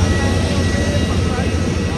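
A passenger jet's engine drones loud and steady on the apron at Mumbai airport after a flight from Hyderabad, a continuous low roar and whine filling the whole moment with no break.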